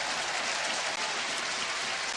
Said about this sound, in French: Et Johnny Novak qui sort sous les acclamations des supporters sedanais.